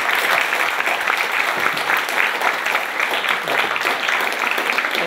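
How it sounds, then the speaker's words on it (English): Sustained audience applause after a university lecture on investing at UC Irvine, dense and steady throughout, filling the room at full volume. "Round of applause."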